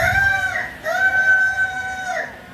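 A person imitates a rooster crowing, producing two long, strained crowing calls in a row. The voice is close by and moderately loud, with a short gap between the calls and a faint clucking trail at the end.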